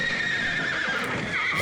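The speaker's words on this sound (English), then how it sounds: "that horse is bronking" A horse in a film neighs in one long, loud whinny set against a steady background of hooves and ambient noise.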